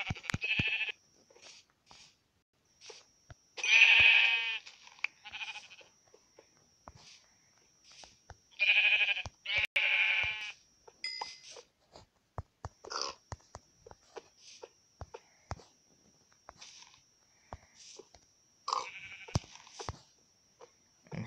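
Minecraft sheep bleat in a video game, a few loud wavering calls in short clusters with quieter clicks and game sounds between them and no talking.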